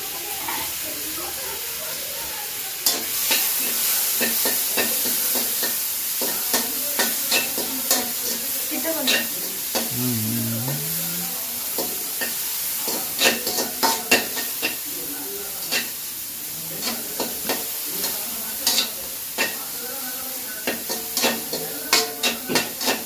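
Onions fry and sizzle in a pan for prawn kottu roti, a steady crackling bed with frequent sharp clinks and scrapes of a utensil stirring, close and fairly loud throughout with only faint background voices.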